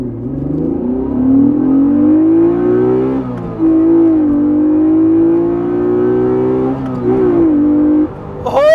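Honda NSX with a VTEC V6 revving up close, a loud smooth tone climbing and holding at high rpm in several sustained pulls, with brief dips between them and a quick final blip.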